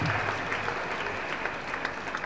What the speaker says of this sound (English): Can you clap for yourself, please?